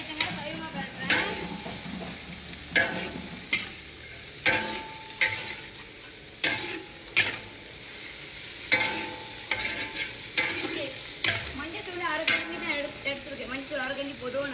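Chopped long beans being stirred and sautéed in a pan, with steady frying sizzle and repeated scraping stir strokes at close range, continuing without pause.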